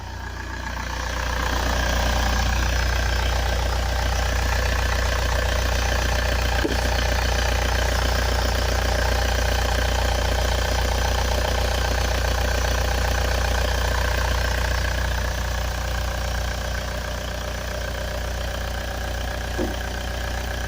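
Saab 9-3 TiD diesel engine idling after starting, a steady close rumbling drone that holds evenly for about twenty seconds and eases slightly toward the end, with no talking.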